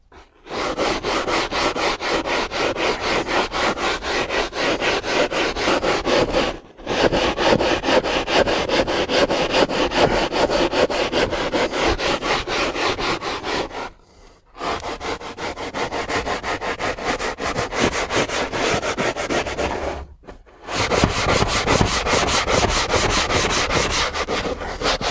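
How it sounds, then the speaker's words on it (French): Stiff brush scrubbing the heavily soiled interior of a car, a steady close-up rasping rub in long continuous bursts separated by three brief pauses. "Et puis brosse."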